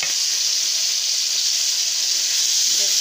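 Onion paste sizzles in hot oil with a bay leaf and green chilli, a loud, steady, close hiss broken by faint scraping as it is stirred around the pan.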